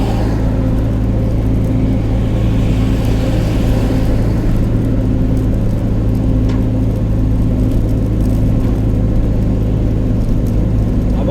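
A truck engine drones steadily from inside the cab while the vehicle drives, a constant low rumble and whir that holds at an even level throughout, with no one speaking.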